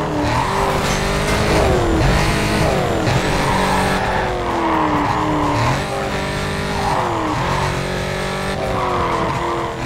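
Corvette racing in the video game NFS Carbon, engine revving hard through gear changes with repeated loud tire squeals and skids, close and continuous throughout.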